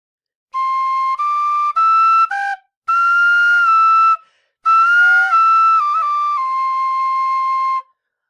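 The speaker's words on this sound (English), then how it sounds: "you just hear what the whistle sounds like" A Kerry Thunderbird tin whistle plays a simple tune of clear sustained notes in several phrases with short pauses, close and loud, with no talking.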